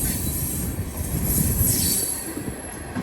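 A train hauled by operational locomotives rolls past close by at the Sardinia wye, a loud continuous rumble of railcars with high wheel squeal and clattering over rail joints.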